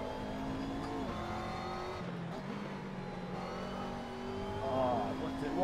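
A McLaren MP4-12C races at Spa in Assetto Corsa, its engine droning at steady revs with tonal harmonics and a brief dip as gears shift, then rising again, while someone talks over it.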